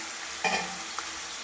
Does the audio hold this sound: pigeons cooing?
no